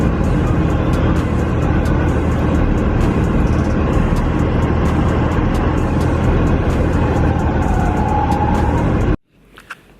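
A Toyota Corolla AE86 drifts in a parking lot, its engine roaring loud and constant with harsh wind buffeting for about nine seconds before cutting off abruptly into near quiet.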